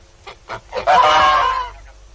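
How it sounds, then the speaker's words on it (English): Farmyard fowl, with honking geese among them, heard as a radio drama sound effect: a few short calls, then a loud, dense burst of honking and squawking for about a second before it fades. "and collected the hen's eggs and the duck's eggs and the geese eggs."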